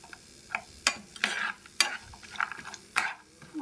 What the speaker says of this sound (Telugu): లేదంటే అన్నీ కలిపి ఇలాగ వేయించుకోవచ్చు